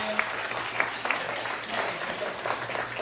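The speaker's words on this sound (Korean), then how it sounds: "우리 교인들이신데 인사드릴 때 뜨겁게 박수해 주시기 바랍니다." A church congregation claps warmly during a Sunday worship service, a steady, dense wash of applause with a few sharper claps standing out, with some talking mixed in underneath.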